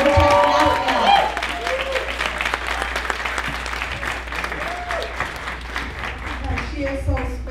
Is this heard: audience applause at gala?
yes